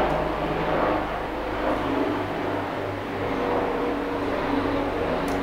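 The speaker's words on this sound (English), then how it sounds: "Sorry, there's a plane." A steady low engine roar of an airplane flying overhead fills the background, droning evenly throughout without pause.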